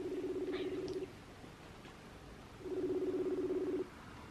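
Phone ringback tone from an outgoing call, two long steady beeps separated by a pause, fairly faint with quiet room noise between them.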